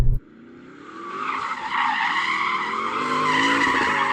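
A Porsche Cayenne Turbo GT four-wheel-drive SUV does donuts, its tyres squealing in a long, loud, sustained skid over a rising engine roar after a brief opening thump.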